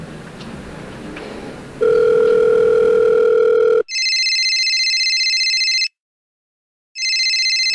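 A mobile phone rings in a home setting: after a stretch of low background noise and a steady tone, loud electronic ring bursts repeat close by, pausing briefly between them.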